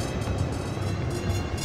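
Train passing in the shooter game Necromunda: Hired Gun, a brief, loud, dense rumble of rolling rail noise that holds steady throughout.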